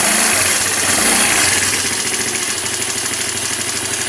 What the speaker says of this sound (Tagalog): Then paikutin natin yung clutch belt.